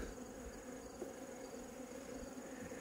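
Honey bees hum around a hive at an apiary, a faint, steady drone with a soft insect whine and no voices.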